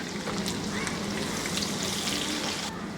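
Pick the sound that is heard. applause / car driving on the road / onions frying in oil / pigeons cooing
onions frying in oil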